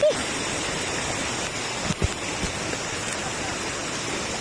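Tai Shing Stream in Hong Kong flowing, a steady, full broadband rush of running water that fills the whole clip without a break.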